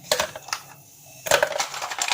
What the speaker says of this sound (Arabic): وهنحط مكعبات التلج